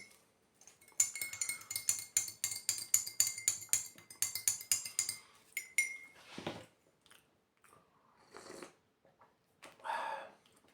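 Metal spoon clinking repeatedly against a cup or dish while sugar is added, a quick rhythmic run of close, bright clinks followed by a few scattered rattles and handling noises.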